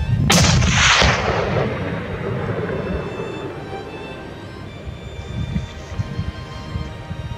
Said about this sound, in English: I just shot my first bear.